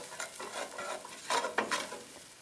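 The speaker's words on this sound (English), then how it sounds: "we're just going to start to sizzle this just to bring out some of their flavor" Shallots sizzle and crackle in a hot pan, with soft stirring scrapes and a few brief louder bursts, close and fairly quiet.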